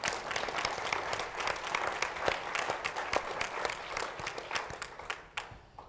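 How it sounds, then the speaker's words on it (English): Applause at a parent engagement conference plenary: many hands clapping in a dense, lively burst, with sharp individual claps standing out, loud at first and then tapering off toward the end. "I think you should give all of yourselves a round of applause."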